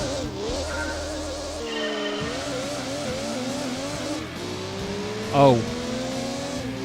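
A Honda Civic race car in Gran Turismo 2 revs through rising engine pitches with audible gear-change drops and a brief tyre squeal, under a man's short remark.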